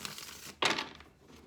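Tarot cards stuck together are pulled apart with one close, sharp papery crackle and rip, after a moment of faint rustling.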